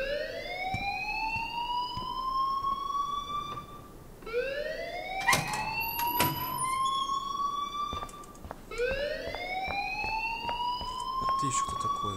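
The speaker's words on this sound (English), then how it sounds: "please turn off that alarm since that's your job" School alarm from Life is Strange wailing in repeated rising sweeps, three long cycles with short gaps, loud and steady over a faint background.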